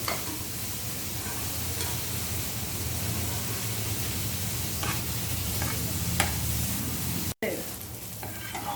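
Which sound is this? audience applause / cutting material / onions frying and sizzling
onions frying and sizzling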